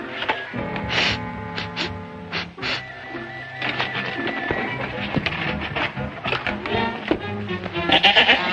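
A goat bleats several times in a bedroom scene of a vintage Laurel and Hardy comedy, the wavering cries loud and close, standing out over a busy bed of music and room noise.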